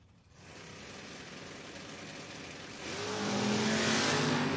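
Drag racing cars launch in a heads-up race at a Door Wars event, a steady engine roar that swells louder and higher as the cars accelerate away.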